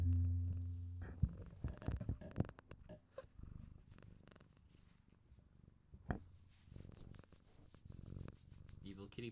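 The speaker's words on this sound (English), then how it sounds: "You guys want to hear her purrs?" Munji, a pet cat, purrs softly close to the mic while being handled and chin-scratched, with rustling and rubbing noises breaking into the low rumble at irregular moments.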